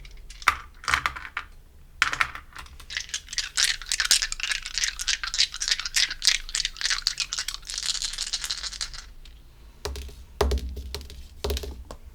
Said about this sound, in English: And we're rolling 4 of them for you. So 4 dice from the Astro set.